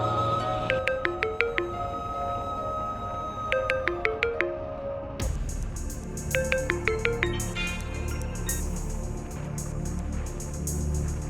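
A mobile phone ringtone plays a repeating melodic tune loud and close. Its bright tonal notes come in short phrases with gaps between them. After a few seconds the tune continues over a busier, noisier background.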